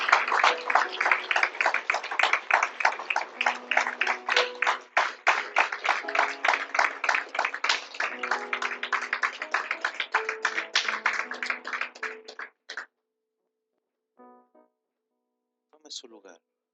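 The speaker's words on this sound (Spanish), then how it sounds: "Un aplauso al Señor" A church congregation applauds the Lord after a closing prayer, a dense run of steady clapping that carries on for about twelve seconds before stopping, with a few faint sounds trailing after.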